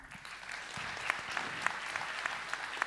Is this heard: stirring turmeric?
no